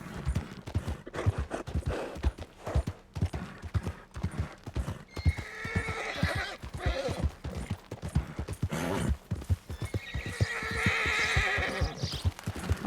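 A horse in the Red Dead Redemption 2 video game trots with a rapid, steady clip-clop of hooves, loud and close, while repeated whinnies and snorts break through over the hoofbeats.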